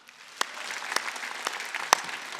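Church congregation clapping at a Wednesday worship service, a brief burst of steady, fairly close applause with a few sharper individual claps standing out.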